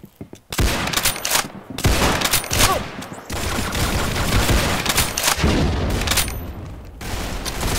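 Rapid, loud gunfire in the Roblox game Arsenal, with dense bursts of automatic fire that continue almost without a break after a brief quiet start.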